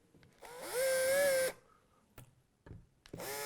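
A big power drill briefly touches off on a Trev Wilkinson kit guitar body, a loud whining burst of about a second, followed by small handling knocks and a second drill burst starting at the end.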